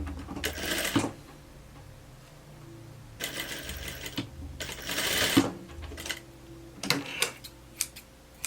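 A sewing machine stitches fabric for a blouse in short separate bursts of rapid ticking, each lasting a second or two, with quiet pauses in between, close by and moderately loud.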